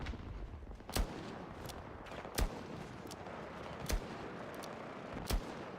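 Four sharp sniper rifle shots from Battlefield ring out at even gaps of about one and a half seconds, each a loud crack with a short tail, over a steady bed of battlefield ambience and distant rumble.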